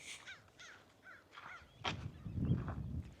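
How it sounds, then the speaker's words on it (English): A crow caws outdoors, first in a run of four or five clear caws spaced evenly, then a louder burst followed by low, rumbling noise, all at middling distance. "And there's that one crow that thinks he's a seagull."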